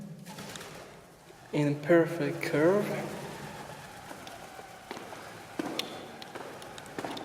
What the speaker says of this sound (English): Is this a place just for pigeons?